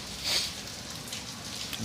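Steady rain pours down continuously, a dense, even hiss of drops falling on surfaces all around.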